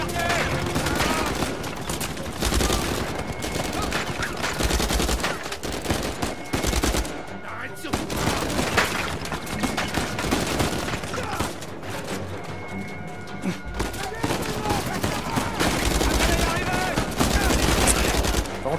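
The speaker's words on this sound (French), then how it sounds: "Oh oui, putain, y'a une bonne tourelle là." Heavy automatic gunfire from a mounted gun turret in Uncharted 4 rattles on almost without pause, loud and dense, with brief lulls between bursts and a voice talking faintly underneath.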